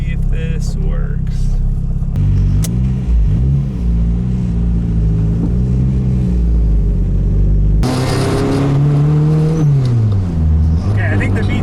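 A K24-swapped Nissan Cefiro accelerates hard, its engine rumbling loudly through rising revs with VTEC engaging, a gear change and then a second strong pull, heard from inside the car with voices talking over it.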